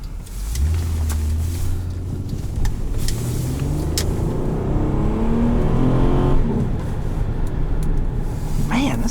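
2006 Saturn Vue V6 AWD engine accelerating on a test drive, a rising rumble and rev climbing through the gears from inside the cabin, loud and steady with a brief shift around the middle.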